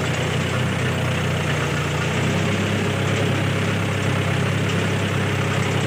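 A Mahindra 475 tractor engine runs steadily with a potato planter attached, making a constant, even mechanical drone close by with no pauses throughout.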